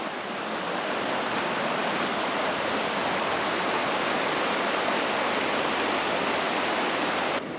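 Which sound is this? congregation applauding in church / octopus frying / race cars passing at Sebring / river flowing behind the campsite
river flowing behind the campsite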